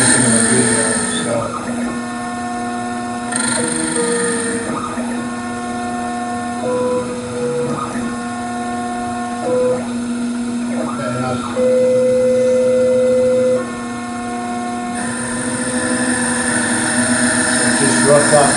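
A wood lathe roughs out a custom turned part, its motor giving a steady tonal whine with shifting pitched overtones as the cutting goes on, while a voice talks over it.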